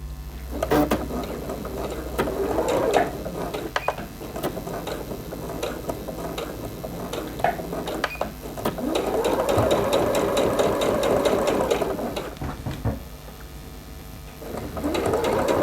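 Close-up sewing machine stitches a band onto a newsboy cap: fast, rattling runs of needle strokes broken by short pauses and clicks, with a longer steady burst near the end, no talk.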